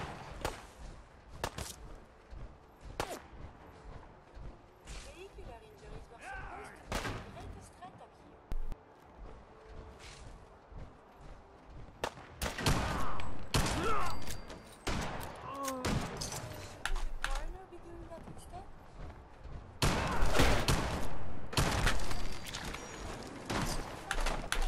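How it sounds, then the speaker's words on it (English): Gunfire in Fallout 4, with bursts and rapid volleys of shots scattered through the scene, growing denser and louder in the later stretches, mixed with game effects and occasional talk. "They're shooting at Curie."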